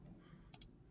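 Computer mouse clicked twice in quick succession, two crisp close ticks over a quiet room hum.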